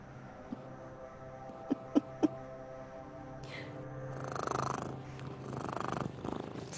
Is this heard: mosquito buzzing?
no